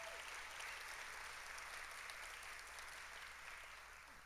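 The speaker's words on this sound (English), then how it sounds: "Let's give her a huge round of applause" An audience at an award ceremony for children's advocacy applauds steadily and warmly, a dense, even clapping that carries on throughout and tapers slightly at the end, with no voices over it.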